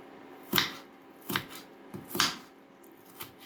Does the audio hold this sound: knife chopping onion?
yes